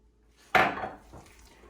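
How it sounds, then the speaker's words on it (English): Chopped onions tipped into a mixing bowl land in one quick, close clatter that trails off into a soft rustle and settle. "Dump the onions in."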